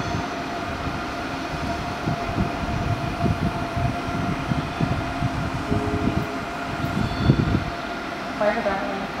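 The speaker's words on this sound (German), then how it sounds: "Gleis 4 fährt ein S7 nach Alt." An S-Bahn S7 train rolls into a platform at Donnersbergerbrücke station, a sustained rumble with rhythmic wheel clatter and a steady tonal hum, rising slightly near the end with brief squeal.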